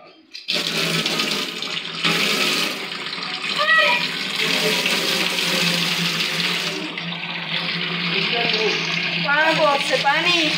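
Water runs steadily from a bathroom tap as a continuous close rush, with voices talking over it throughout.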